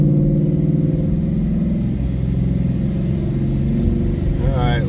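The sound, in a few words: car engine and exhaust while driving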